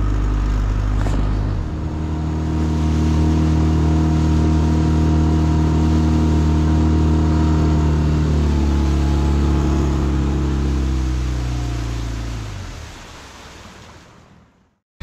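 A fishing boat motor hums steadily on a river with a low droning engine tone and rushing water, then slows and winds down near the end.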